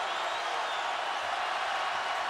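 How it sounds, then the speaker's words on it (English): Basketball crowd at a Kansas NCAA Tournament first-round game roaring for the home team, a dense, loud, sustained wash of cheering filling the arena. "Kansas within 1, and this crowd comes alive"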